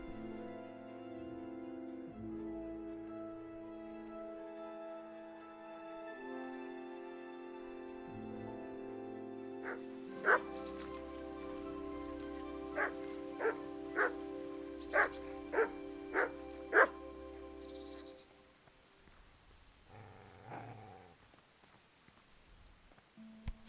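Several dogs bark in a short, regular burst of sharp yaps over steady medieval game music in Kingdom Come: Deliverance, then fall quiet before one last distant bark.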